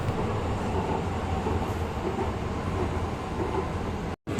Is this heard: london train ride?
yes